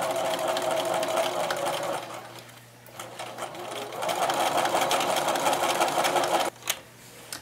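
A sewing machine stitches a contoured baby burp cloth in a steady, fast whirring hum. It pauses briefly and then resumes, stopping near the end with a couple of clicks. The sound is close and alone.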